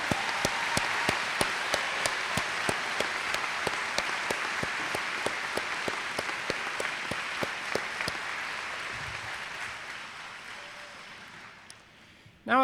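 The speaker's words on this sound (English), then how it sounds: "let's have one round of applause for all these newly minted graduates" Sustained applause from a commencement audience honoring newly graduated college students, dense and steady with many distinct sharp claps standing out, lasting about eleven seconds before tapering off near the end.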